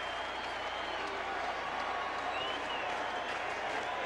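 A crowd of 35,000 baseball fans at a Cardinals home game stands and applauds, a dense, continuous roar of clapping and cheering that fills the whole stretch, heard from a distance.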